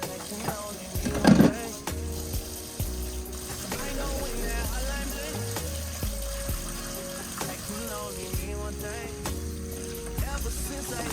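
Water runs from a tap in a steady soft hiss, partly masked by music playing in the background.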